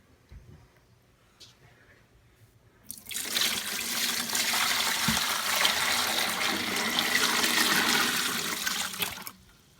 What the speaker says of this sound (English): And then we'll add our brine.